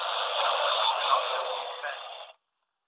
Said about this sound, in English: you can catch up the noise I have on the radio